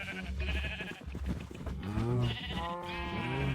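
Sheep bleating and cows mooing in the Minecraft video game, with several wavering bleats and low moos overlapping in quick succession, close and fairly loud, with no speech.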